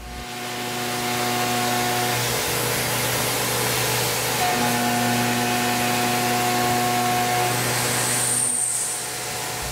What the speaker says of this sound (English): we'll come in once more with the quarter inch three flute end mill and a 3D adaptive toolpath to clear out the bulk of this hole